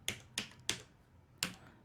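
A captcha code is typed on a computer keyboard: four quiet, sharp key taps at an uneven pace, the last after a short pause.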